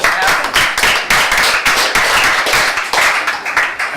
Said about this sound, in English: clap for Pat Sheridan